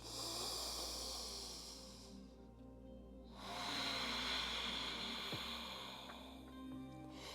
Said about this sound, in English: Taking 3 rounds Ujjayi breath here as we inhale, creating that audible sound through the back of the throat